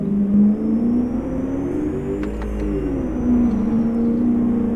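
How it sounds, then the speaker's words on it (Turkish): A modified Honda Civic Type-R engine in Euro Truck Simulator 2 drones steadily and loud, its pitch rising and falling slightly as the throttle shifts, with a throaty exhaust tone throughout. "bu seste bu egzozda bile efsane bir ses, efsane bir gürültü var arabada"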